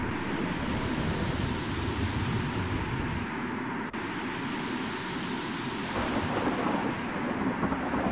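Thunder rolls through a dusty lightning storm in the Gas Station Simulator video game: a steady, loud, broad rumble fills the whole stretch, with a brief dip midway and a swell near the end, and no talk over it.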